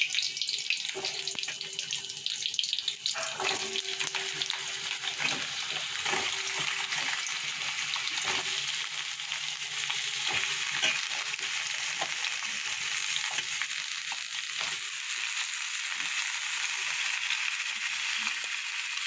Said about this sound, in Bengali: কড়াতে তেলও গরম হয়ে জিরে আর তেজপাতা ফোড়ন দিয়েছি।